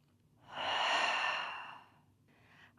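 One long, deep breath drawn in and then slowly released, a soft airy rush that swells and fades, followed by a short quieter breath, heard close and alone in a calm setting.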